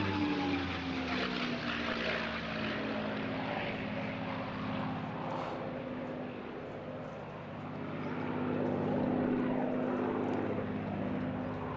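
A Rolls-Royce-owned P-51 Mustang, once flown as the Shark, drones steadily overhead at a seaside airshow, its propeller engine holding a sustained, fairly distant tone that swells slightly toward the end.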